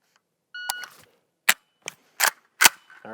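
Rapid string of Galil Ace rifle shots on a firing range, five sharp cracks spaced irregularly about half a second apart, loud and close, with electronic timer beeps at the start.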